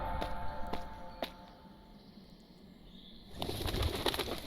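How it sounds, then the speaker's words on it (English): Pigeons in the Enchanted Stories 2 PAWisoned Kingdom game coo softly amid a flutter of wings, with a few sharp taps early on and a denser burst of flapping near the end. "Look at all these pigeons."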